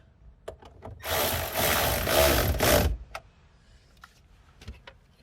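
The negative battery cable terminal on a BMW 335i with an N55 engine is tightened: a few light clicks, then a loud buzzing tool burst of about two seconds, followed by scattered faint clicks.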